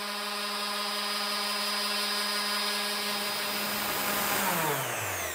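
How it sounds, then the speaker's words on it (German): A random orbital sander deburring small milled parts for a miniature Unimog model, a loud continuous motor whine with steady tonal hum that runs without pause, then pitches down as it spins off near the end. "Die schleift Nico nochmal mit dem Exzenterschleifer ab, um den Grat vom Fräsen abzubekommen."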